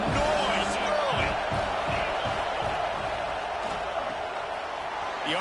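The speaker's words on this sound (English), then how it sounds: "This crowd bringing the energy and noise early." A packed football stadium crowd roars in a steady, distant wash of cheering and noise, with occasional thumps and shouts and commentary talk layered on top.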